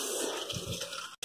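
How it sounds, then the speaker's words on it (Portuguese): Water pours into a pressure-cooker pot of rice mixed with garlic and lard, making a brief, close, steady rush of splashing liquid that cuts off abruptly. "vou colocar agora, acrescentar 4 xícaras dessa de água"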